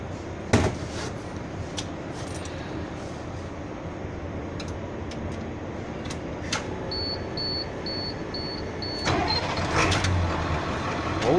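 A yellow submarine vehicle's engine runs at a steady low hum, with a few brief clicks and knocks over it and a faint repeating electronic beep partway through.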